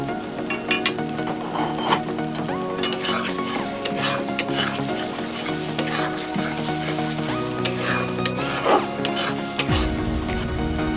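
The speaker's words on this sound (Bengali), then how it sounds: "এই লো মিডিয়াম আঁচে দিয়ে আমি সব কষিয়ে নিয়েছি, মশলাটা পুরো কষিয়ে নিয়েছি" A spice masala for rohu fish kalia sautéing on low-medium heat, with a dense steady sizzle under repeated spatula scrapes and clinks against the pan, loud and close for the whole stretch.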